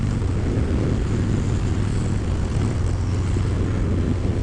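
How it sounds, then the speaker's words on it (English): Stock exhaust of a Harley-Davidson Bad Boy motorcycle gives off a steady, loud low-pitched rumble that runs unbroken and close throughout, with no voices over it. "So even the stock exhaust gives you a pretty good rumble and keeps you entertained throughout."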